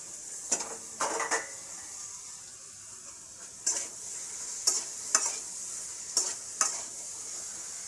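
Eggplant frying in a pan on a home stove, a steady sizzle carrying under sharp, intermittent scrapes and clinks of a spatula stirring against the pan, several strokes spaced irregularly, close and moderately loud.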